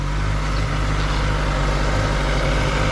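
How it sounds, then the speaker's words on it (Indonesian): Mercedes S-Class four-cylinder engine running close by at steady idle-to-rev, a continuous low rumble with a deep throb holding even for the whole stretch, no voices. "Cuman 4 silinder, keren banget suaranya."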